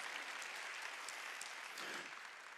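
A church congregation at a Sunday worship service claps together, giving a steady, fairly faint wash of applause throughout.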